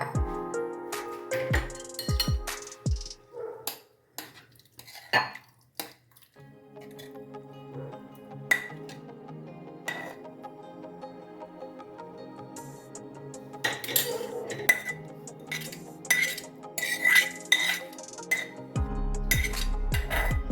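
Dishes and cutlery clink while spicy Vidarbha-style red chilli and garlic thecha is served: scattered metallic taps, scrapes and small knocks of spoon on plate and bowl, close and fairly quiet, with soft wet squishes between them.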